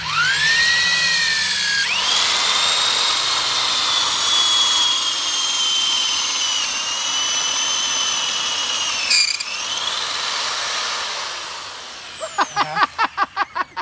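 Power drill fitted with a masonry bit runs with a high steady whine that drops in pitch under load, briefly stalls and restarts, then ends with a string of quick clicking ratchet bursts.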